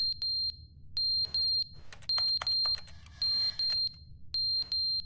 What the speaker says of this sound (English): The fire alarm's going off.